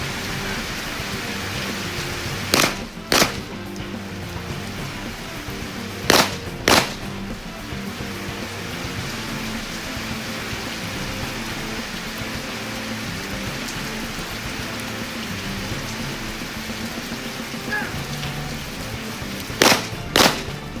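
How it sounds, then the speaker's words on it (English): Heavy rain pours outdoors as a dense, loud, continuous hiss with no letup. A few sharp cracks stand out over it now and then. "Man, it's really pouring now."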